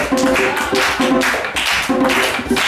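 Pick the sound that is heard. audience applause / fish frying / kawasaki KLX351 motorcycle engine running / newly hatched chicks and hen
audience applause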